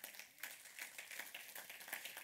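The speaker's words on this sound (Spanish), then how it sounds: "Den un aplauso al Señor" A church congregation applauds, with soft, distant, continuous clapping that stays low throughout.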